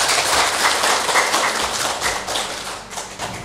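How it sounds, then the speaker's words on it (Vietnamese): Loud, dense applause from a large crowd at a Buddhist dharma talk, a continuous wash of clapping that swells and then gradually thins out. "một tràng vỗ tay thật lớn"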